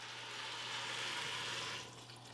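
Broth poured into a pan of chickpeas and garlic gives a short, steady hissing splash of liquid that swells and then eases off near the end.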